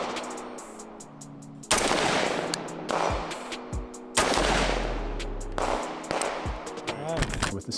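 Rifle firing M855 green tip rounds into ballistic gel: a few loud, sharp reports with ringing decay, spaced seconds apart, outdoors and close.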